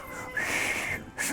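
A person whistles a steady, sustained tone at close range in a home kitchen while making polvoron, holding the note for about half a second before a short pause and a brief second whistle.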